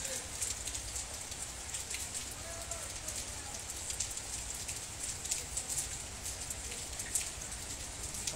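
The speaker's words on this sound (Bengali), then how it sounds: "মৌলভীবাজার সদরও বৃষ্টি ওর।" Steady rain pours down in Moulvibazar Sadar, Bangladesh, a dense, even hiss of drops striking surfaces that continues unbroken from start to finish.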